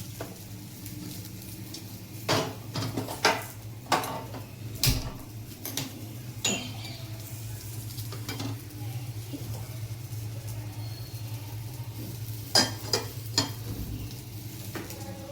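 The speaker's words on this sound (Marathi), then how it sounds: "आपला अशा प्रकारे मसाला छान भाजून घेणार आहे।" A spatula scrapes and knocks around a pan in sporadic strokes over a steady low sizzle as a green chilli masala paste for egg curry roasts, close by and moderately quiet.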